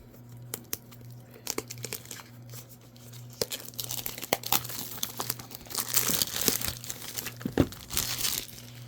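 Cardboard is cut and torn open close by, with crinkling, ripping and sharp snips in an uneven rhythm against a low steady hum.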